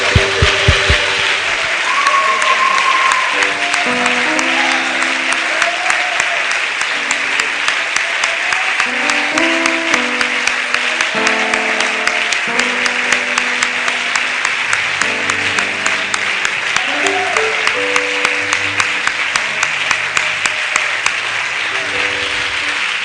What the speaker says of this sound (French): Pouvons-nous tous donner une grande main d'acclamation au Seigneur.